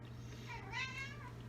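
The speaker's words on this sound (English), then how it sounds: "So the cat is going crazy at my feet." A house cat named Lily meows once in a kitchen, a single drawn-out rising and falling call, faint and close over a steady low hum, with no talking.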